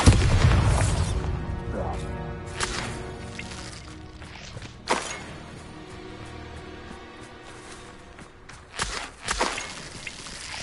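A Bombarda blasting spell goes off in the Hogwarts Legacy video game, with dull booming impacts and bursts rising over a low rumbling game background, including a sharper hit midway and a couple of louder pops near the end.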